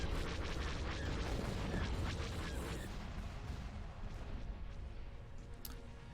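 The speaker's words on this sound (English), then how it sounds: "Torpedoes are away on the space station." Heavy rumbling torpedo explosions against a space station in a Star Wars space battle game, a dense roaring barrage that is loudest early and slowly thins into fading booms, with no talk.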